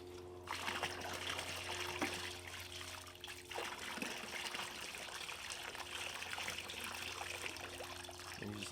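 Muddy water is poured and swirled out of a gold pan while washing dirt, a close, continuous trickling and splashing that runs steadily with small surges, and no voices.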